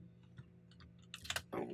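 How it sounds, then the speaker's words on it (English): Noisy computer keyboard and mouse clicking in quick, light bursts near the end, with a few sparse clicks earlier against a quiet room hum. "I still have a keyboard and mouse that make a lot of noise"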